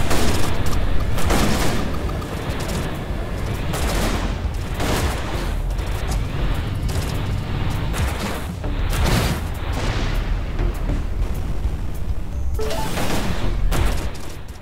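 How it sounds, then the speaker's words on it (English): Rapid missile barrage from a spacecraft fired at a missile turret in Everspace 2, a dense stream of repeated booming launches and blasts, loud and continuous with a brief lull midway. "Looks like we've got a missile turret here, so we're gonna barrage it with missiles of our own."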